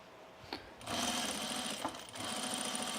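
A sewing machine runs continuously, stitching a second row on a top with a close, buzzing whir, briefly pausing and restarting once before resuming its steady hum.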